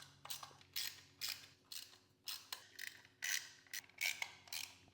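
Bolts on the carbon engine protection of a 2025 Ducati Panigale V4 being snugged with a ratchet, a close series of quick clicking bursts repeating in steady rhythm, no voices.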